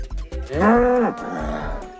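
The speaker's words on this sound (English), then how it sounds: "helped us out recording the cows" A cow gives a single loud, close moo recorded for Minecraft, a long, resonant low call that swells and then drops off, with faint farm noise around it and no voices.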